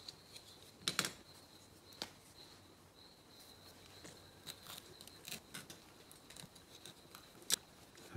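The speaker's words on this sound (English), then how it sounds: "And maybe cut a circle." Scissors snip through material to cut out a circle, a few sharp close clicks and crisp cuts scattered across several seconds with quiet pauses between them, no talking.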